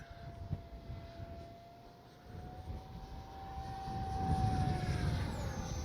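An Arrows RC F-86 Sabre 64mm electric ducted-fan model jet flies by at full speed, a faint whining drone that rises and swells as it passes, heard outdoors on a windy day without talk.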